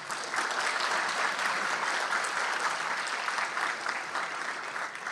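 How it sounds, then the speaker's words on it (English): An audience at a forest-management debate session gives a steady, even round of applause, with dense clapping heard at a moderate distance throughout. "Let's give everyone a round of applause."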